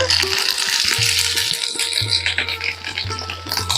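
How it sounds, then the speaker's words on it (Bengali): Grated ginger and whole cumin fry in white oil in a kadai over a gas flame, with a bright steady sizzle and repeated scraping, clinking strokes of stirring. "এগুলোকে নেড়ে চেড়ে ভেজে নেব এর কাঁচা সেন্টটা চলে যাওয়া পর্যন্ত"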